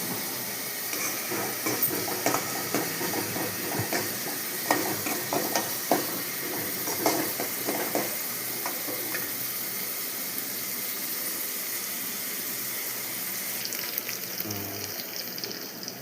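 Lung fries in a pan with curry leaves as a dense, steady sizzle hisses throughout, with scattered spatula stirs and scrapes near the start, heard close and continuous with no speech.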